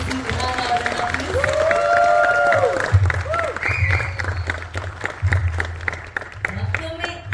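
Audience applause welcoming the lead actor at a Kannada film's trailer launch, a sustained crowd clapping that blends with music and voices on a loud stage.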